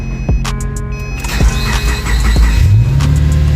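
A Subaru engine cranking and catching after the ignition is switched on, following a throttle body repair: a few starter pulses, then the motor rising to a steady idle, close and loud.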